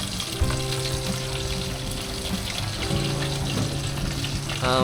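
Steady crackling sizzle of chicken frying in hot oil, close and continuous, with faint clinks and background hum of an apartment kitchen during a typhoon.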